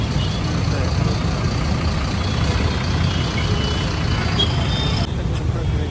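Dense traffic on a busy Bangalore road, a continuous loud rumble of truck and bus engines close by, with a faint reversing beep and an air-brake hiss mixed into the steady roar; no clear talk over the noise.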